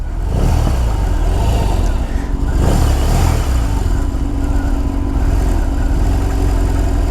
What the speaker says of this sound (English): notice when you rev the motor, like most BMWs with the Boxer motor